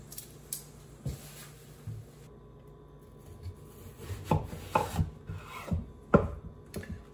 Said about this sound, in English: So we're gonna chop some red onion.